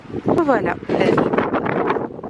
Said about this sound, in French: Ouh, il y a un vent par contre